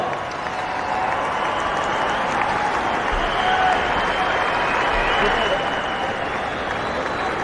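Cricket stadium crowd applauds a batsman's one-day international century, broad sustained clapping and cheering rolling through the ground, with a commentator's voice over it.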